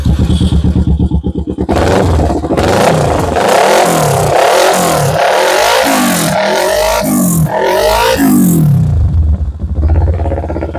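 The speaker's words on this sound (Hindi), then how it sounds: "अब ये लिविंसी का रैपली का मैं आपको साउंड सुना दूँ कैसा" Kawasaki Ninja 650 fitted with a LeoVince aftermarket exhaust, revved repeatedly up close: loud, rasping throttle blips rise and fall in quick succession over a steady rumbling idle.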